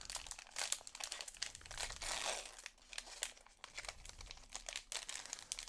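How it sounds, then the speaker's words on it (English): Panini Prizm basketball card packs are torn open, with crisp crinkling and tearing of foil wrappers in irregular bursts, close and fairly quiet, without talk. "let's just start ripping these packs"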